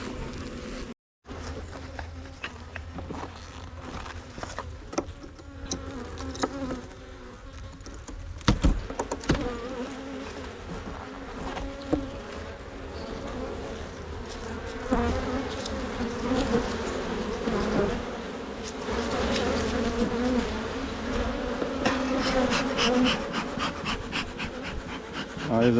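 Honeybees buzz steadily around an open hive during a late-season honey harvest, a dense droning swarm close to the microphone that swells louder in the second half, with occasional knocks and rustles.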